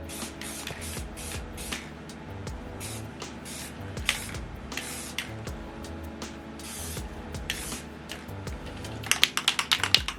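A spray can puts a coat of flat black paint onto car parts in a series of short hissing bursts with brief gaps between them. The bursts are of uneven length and are mixed with light clicks and rattles, and nobody speaks.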